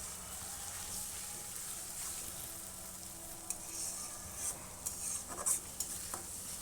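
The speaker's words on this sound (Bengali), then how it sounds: "ওই যে কড়াইতে পেঁয়াজ আর তেল দিয়ে নাড়তেছি" Steady sizzling hiss as onions are stirred in hot oil in a wok, with a few sharper scrapes and clinks of a utensil against the metal toward the end.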